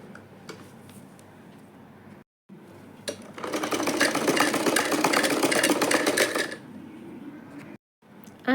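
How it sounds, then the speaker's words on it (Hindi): A sewing machine stitches a zipper onto a homemade side purse. Its rapid, rhythmic mechanical chatter runs loud and close for about three seconds, with quieter handling and ticking before and after. "जिप को सीधा रखेंगे और सिलाई कर लेंगे।"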